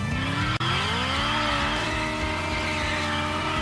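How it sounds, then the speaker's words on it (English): Off-road buggy in the racing game Test Drive Unlimited Solar Crown, revving hard with tyres spinning and squealing on bumpy rocks; a loud, steady engine drone with rising pitch, one brief cut, no talking. "It's going to take a lot of revving and wheel spinning to get up here."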